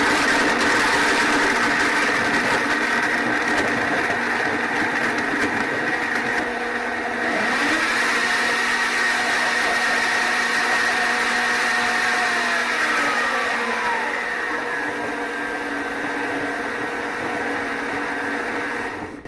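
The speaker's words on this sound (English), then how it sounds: "So you put the lid on it and I like to blend it." A blender on its milkshake setting whirs loudly and continuously for a long stretch while blending yogurt made from powdered milk, its motor pitch shifting slightly as the contents churn.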